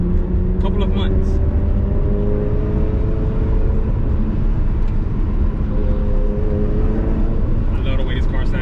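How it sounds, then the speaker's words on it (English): A Ferrari Challenge Stradale engine drones steadily while driving, a continuous loud in-cabin hum with shifting harmonic tones, and a voice speaks over it throughout. "I love the way this car sounds."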